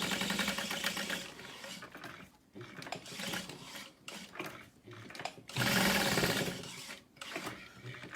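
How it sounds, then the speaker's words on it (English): Sewing machine stitching vinyl for a backpack, a close, fast mechanical whirring hum running in several bursts with brief slowdowns and pauses between seams. "we're just going to sew along one side, down the bottom, and back up"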